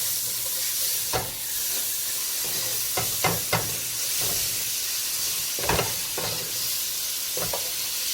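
Onions and peppers sizzle in hot oil with shrimp juices in a pan for seafood rice, a steady close frying hiss punctuated by several sharp scraping stirs of a utensil against the pan.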